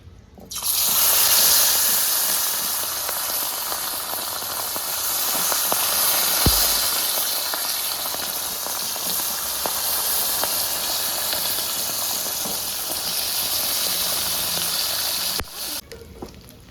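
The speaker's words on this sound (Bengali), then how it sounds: "তেলটা আমাদের গরম হয়ে গেছে এবার আমি মাছগুলো ভেজে নেব" Fish fry in hot oil in a home kitchen, giving a loud, continuous sizzling hiss that holds steady for the whole stretch and cuts off near the end.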